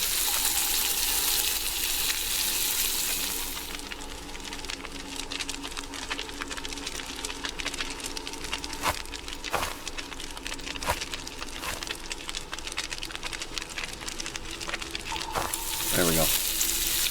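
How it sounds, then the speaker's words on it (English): Food sizzles and fries continuously while cooking in a video game, a dense crackling hiss with scattered sharp clicks and a brief watery burst near the end. "So you just drop stuff down to cook it. When it stops sizzling, like that, you know it's done."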